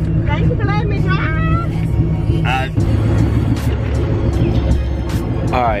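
A Ford Mustang Cobra's engine idles with a low, steady rumble nearby while people talk over it, with the engine staying constant under the voices.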